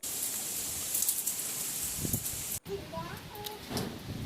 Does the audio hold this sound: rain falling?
yes